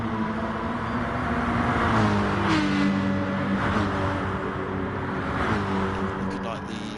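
Racing cars in a sim racing game, an Aston and a Mercedes running close in the slipstream, engines droning steadily with rising and falling pitch as they shift gears, under continuous commentary talk.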